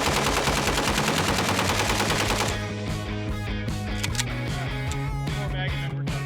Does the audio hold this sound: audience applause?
no